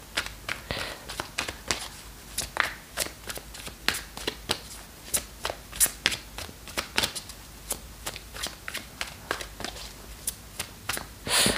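Tarot cards are shuffled by hand up close, giving a steady run of crisp riffles and papery snaps that repeat in a quick rhythm, with no talking over them.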